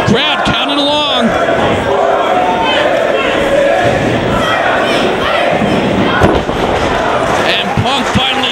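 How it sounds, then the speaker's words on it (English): A large arena crowd at a wrestling match between CM Punk and AJ chants a rhythmic count in unison, loud and echoing, while a commentator talks over it and scattered thuds ring out. "Crowd counting along."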